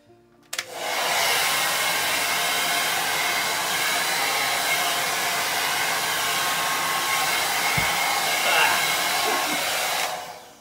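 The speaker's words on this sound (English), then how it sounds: "Of course, I went and stuck the hairdryer in it." A hair dryer blasts onto wet acrylic paint, switching on sharply and roaring as a steady, loud broadband whoosh for about ten seconds before cutting off, with no talking.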